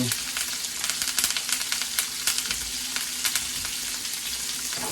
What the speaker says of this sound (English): we're just going to let that hang out in the oil for a few seconds